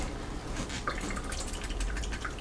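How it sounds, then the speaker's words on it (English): Tap water runs and splashes over a corned beef brisket in a kitchen, a continuous close trickle with irregular drips and patters and no talking. "But I just rinse it with water, and to me it's good."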